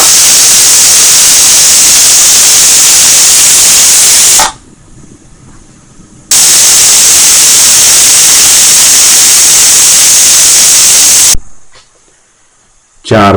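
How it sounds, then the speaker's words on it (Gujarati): A pressure cooker on full gas while vegetable khichdi cooks, letting out a loud, harsh, sustained steam whistle, broken by two short pauses and then resuming. "ચાર સીટી થઈ ગઈ છે."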